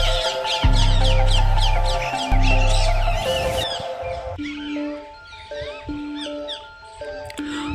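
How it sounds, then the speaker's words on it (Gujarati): Parrots call from the branches of a huge thousand-year-old tree at a Ramdevpir temple in Gujarat, a dense run of sharp, repeated chirps and squawks over a steady low drone that thins out toward the end. "જે પોપટના કલરવ"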